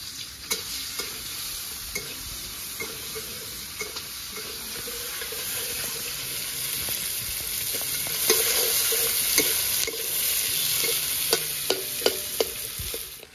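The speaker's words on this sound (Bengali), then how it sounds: "এবারে পেঁয়াজগুলো ভেজে নেবো।" Onions fry in a pan for chowmein, a steady close sizzle with irregular scrapes and taps of a stirring spatula scattered throughout, growing slightly louder toward the end.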